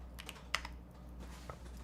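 A few soft, scattered keystrokes tap on a computer keyboard during a coding session, quiet and close over a steady low hum, with one sharper click standing out.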